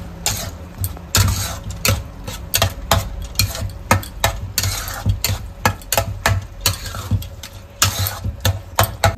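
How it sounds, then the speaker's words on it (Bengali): Spoon stirring dal into a tadka of garlic, ghee and Kashmiri red chili powder in a pan, a steady run of quick scraping taps and clinks against the metal, with light sizzling behind. "এবার তরকার ডালটা এর মধ্যে মিশিয়ে দিচ্ছি।"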